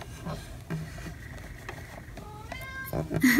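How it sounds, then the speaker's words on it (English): A cat meows a few times in a quiet room, the calls fairly faint and rising in pitch, with a louder one near the end. "She's meowing a lot."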